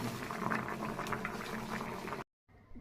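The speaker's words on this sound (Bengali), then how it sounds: "কড়াই সেদ্ধ হচ্ছিল মটর কলাই এবং আলু" Peas and potatoes boil in a kadai, a dense, steady bubbling close by that runs continuously, drops out for a moment near the end, then returns more quietly.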